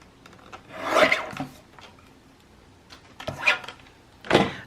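A paper tag for a yearly journal is trimmed up close, with three soft rasping cuts separated by brief pauses, no talk.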